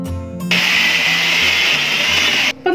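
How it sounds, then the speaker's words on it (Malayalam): An electric kitchen mixer grinds a lemon and raisin pickle mixture with vinegar, a loud steady whirring burst of about two seconds that starts and stops abruptly. "ഇപ്പൊ ഇതെല്ലാം കൂടെ ഒരുമിച്ചിട്ടാണ് ഞാൻ ഇന്ന് അരച്ചെടുക്കാൻ പോകുന്നത്."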